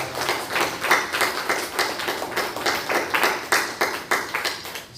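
A church congregation claps in rhythm during a Sunday worship service, steady loud clapping that swells and fades across the passage with no talk over it.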